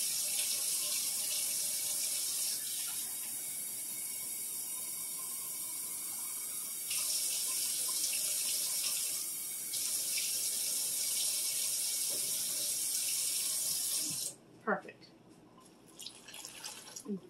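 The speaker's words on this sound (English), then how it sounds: "Let the water run until it was hot." Tap water runs steadily into a sink until hot, a continuous hiss lasting many seconds before it shuts off, followed by a few drips and clatters.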